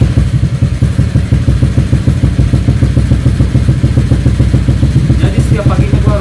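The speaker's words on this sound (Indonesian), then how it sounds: "gua harus tahan gas 2 menit kurang lebih kayak begini supaya motornya kagak mati" A motorcycle engine kept running with the throttle held open on a cold morning, a loud, steady, close rapid pulsing idle with a rough clattering edge throughout.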